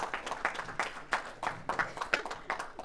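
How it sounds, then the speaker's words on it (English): Scattered, moderately quiet applause rises at a Toastmasters club open house meeting, a modest group clapping in uneven bursts with clear individual claps. "Big round of applause"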